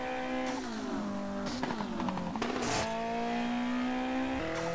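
Racing car engine in MTA:SA on a Need for Speed style server, a steady loud drone with rising and falling revs and gear shifts, continuous and up close.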